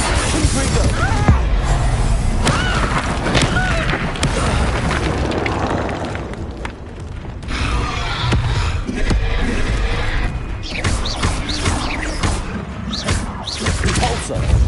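Confringo fire spell blasts during combat in Hogwarts Legacy on PS5, loud booming explosions and crackling impacts in a dense, continuous battle din with voices mixed in.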